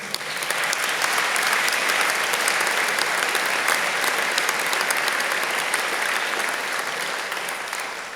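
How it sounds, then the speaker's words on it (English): An audience at a university winter graduation ceremony in a hall gives dense, steady applause, loud and even throughout with no talking over it. "In the meantime, a round of applause for the family will do."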